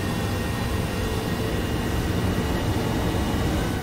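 An aircraft in the flight combat game War Thunder roars through takeoff, a dense, constant engine and air rush filling the whole stretch at steady loudness.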